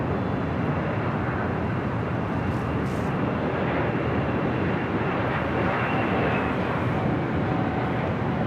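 Airliner departing LAX on a flight to Honolulu, a dense, steady jet engine rumble and roar at moderate distance, continuous throughout with no one talking.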